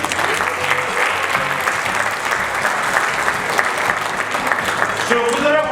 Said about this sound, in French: je voudrais que vous applaudissez d'abord